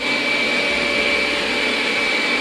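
Xiaomi Mijia MJSTP self-cleaning robot vacuum-mop running at maximum power, a loud, steady whooshing fan roar with a thin high whine, heard alone and close.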